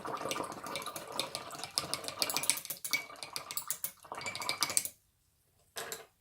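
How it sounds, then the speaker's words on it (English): Paint brushes being washed out in water, with splashing, swishing and the clink of brushes against a container, close and moderately loud, broken by a short pause near the end. "So put my brushes, wash them out."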